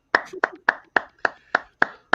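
Eight sharp, evenly spaced hand claps from an audience at a live cigar-night music show, crisp and close with short gaps between each.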